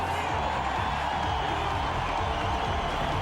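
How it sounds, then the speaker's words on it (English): A sellout hockey crowd fills Brendan Byrne Arena during the 1995 Stanley Cup Final between the Devils and Red Wings, a steady, dense roar of murmuring fans holding at an even level throughout. "it's a sellout crowd inside of Brendan Byrne Arena"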